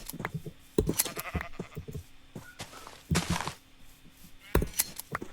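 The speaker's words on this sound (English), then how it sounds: "I think I've seen some sheep over here." Minecraft sheep bleating in the video game, several short bleats scattered at irregular intervals amid blocky in-game thuds and clicks, fairly close and clear.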